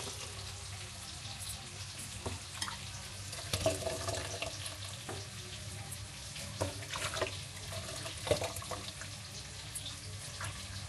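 Water trickles and splashes as soaked puffed rice is squeezed by hand and dropped into a perforated bowl to drain, a close, continuous wet patter with a few louder splashy bursts.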